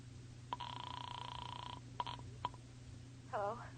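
A telephone rings in a crime radio drama: one long electric ring, then a few short bursts, with steady background hiss and a brief voice near the end.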